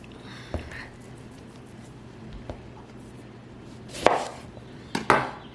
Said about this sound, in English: I diced up the other half of that cucumber.